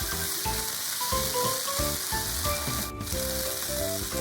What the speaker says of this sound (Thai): ตามด้วยใส่พริกแกงเผ็ดลงไปนะคะ ผัดให้เข้ากันนะคะ